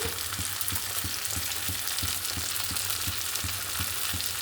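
Cumin powder and chilli frying in a pan for a katla fish bhuna, a loud close sizzle with rhythmic spatula taps roughly every third of a second.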